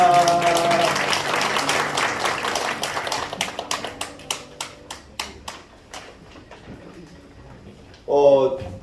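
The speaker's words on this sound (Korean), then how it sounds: "박수하겠습니다." Applause in a church as children are called forward, a crowd's clapping that thins into a string of sparse individual claps and dies away, followed by a burst of voices.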